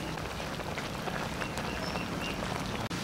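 Steady rain pours down outdoors in the Philippines, a dense, even hiss of drops on surfaces with low rumbling underneath, broken only by a brief dropout near the end.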